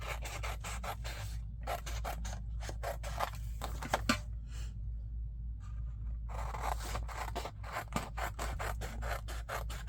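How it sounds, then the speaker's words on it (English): Scissors trim the edges off paper in quick, repeated crisp snips close up, with a brief pause partway through before the cutting picks up again. "let me trim the edges off of here"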